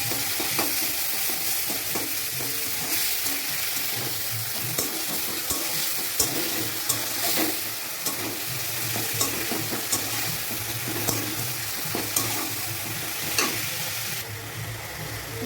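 Garlic paste sizzling and frying in a pan while being stirred for a spiced duck egg curry, a continuous close hiss with recurring scrapes and clinks of the spoon against the pan.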